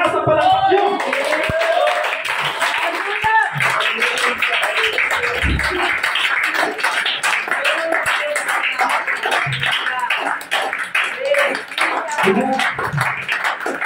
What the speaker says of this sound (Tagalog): Kasi lakas ng palakpak nyo!